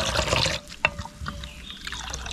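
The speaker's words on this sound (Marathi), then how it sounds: "तर थोडं थोडं पाणी ओतायचंय" Water trickles in small amounts into a thick rice-flour batter for Konkani ghavane, a short pour followed by light splashes and dribbles, near and fairly soft with no speech.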